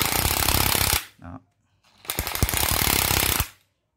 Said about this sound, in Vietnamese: Con này thì vòng tua nhanh cho nên búa đập rất là nhanh.